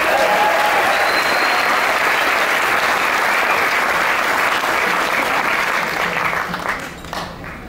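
A live concert audience at a country music headliner show claps heavily and continuously for the front of house sound engineer, a dense, loud wash of applause that thins out near the end.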